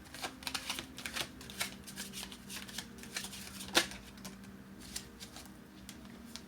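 Tarot cards shuffled by hand, a soft steady riffle of papery flicks and taps with one sharper snap partway through, close and quiet.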